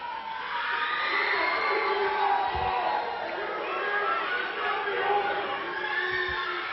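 A packed wrestling crowd at the Portland Sports Arena cheers and shouts throughout a tag team title match, a dense continuous roar with whoops and a couple of low thuds from the ring.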